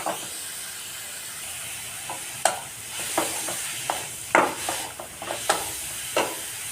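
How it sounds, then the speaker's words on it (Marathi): Grated carrots sauté in ghee with a steady soft sizzle while a spoon stirs and scrapes the pan in irregular, close clacks and scrapes. "आता त्यामध्ये मी हे किसलेले गाजर ॲड करणार आहे आपल्याला गाजर मस्त असे परतून घ्यायचे आहेत"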